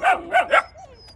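A fluffy male puppy barks three quick, high yips close by, followed by a softer whine as the barking trails off.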